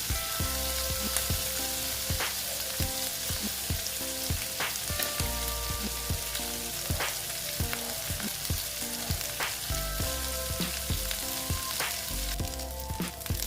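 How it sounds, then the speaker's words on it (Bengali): Dried Bombay duck (lote shutki) fish frying crisp in a pan, a steady close sizzle running throughout with frequent sharp crackles and pops, no talking. "আমি এটা কড়া করে ভেজে নিলাম"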